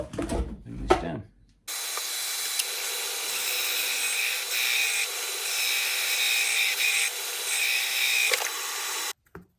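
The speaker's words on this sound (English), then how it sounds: "the disc sander is brilliant for that" Disc sander smoothing the edges of acoustic guitar wood, a steady close whirring grind running for about eight seconds after a couple of short knocks, then cutting off abruptly.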